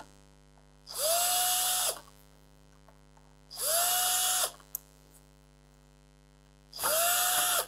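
A power screwdriver backs silver screws out of an Arturia Beatstep Pro controller during a USB repair, giving three separate whirring bursts of about a second each, close and loud, with quiet pauses between them.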